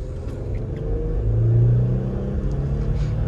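A 2021 Ford F-150 Limited PowerBoost hybrid pickup accelerating at full throttle, heard from inside the cab as a steady low rumbling engine drone that swells and holds, with no talking.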